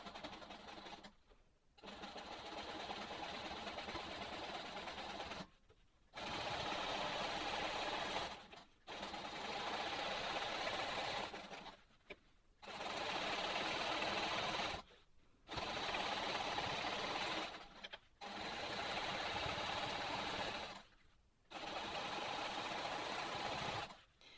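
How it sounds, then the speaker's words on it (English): A sewing machine stitches in the ditch along a quilt's seams, running in steady loud bursts of several seconds each, broken by short pauses as the quilt is repositioned. "I'm going to stitch in the ditch to this point out here."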